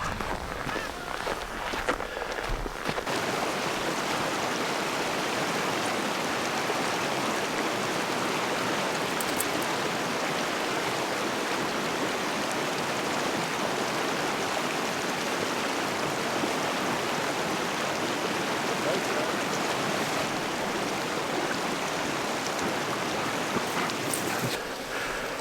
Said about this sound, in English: This is I believe the North Fork of the South Platte River.